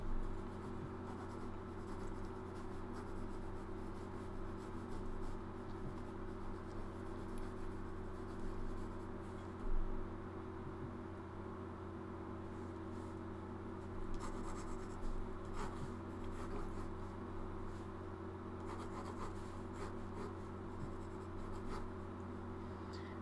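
Pen scratching ink lines onto a comic page, quiet continuous strokes and scrapes close up, with a steady low hum underneath and no speech.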